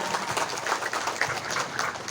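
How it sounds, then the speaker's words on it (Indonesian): An audience at an Islamic religious lecture in Dawuan, Subang, claps for the event organizers, a dense, even patter of many hands continuing steadily throughout. "Tepuk tangan heula untuk para panitia."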